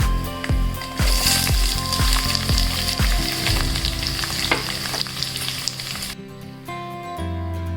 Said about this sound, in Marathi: कैरीला छान हलवून घ्यायचे,